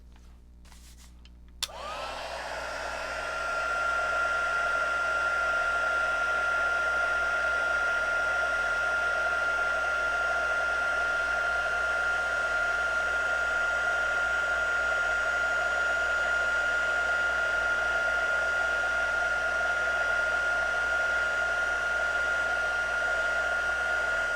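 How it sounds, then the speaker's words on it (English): Heat gun blowing over stamp ink on a handmade greeting card, a steady loud whooshing roar with a high whine that switches on after a brief click and runs continuously, close by with no voices. "And then heat blast it again."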